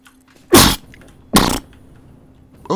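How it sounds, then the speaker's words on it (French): Two sharp, loud sneezes a second apart, with the start of a third at the end, close to the microphone over a faint steady hum. "je fais que d'éternuer"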